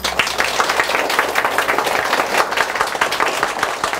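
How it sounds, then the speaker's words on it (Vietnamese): An audience at a Vietnamese Buddhist sermon applauds in a dense, steady round of clapping that stays loud and fairly close throughout. "quý vị xin một tràng pháo tay để cúng dường cho Ni Sư Huệ Thường"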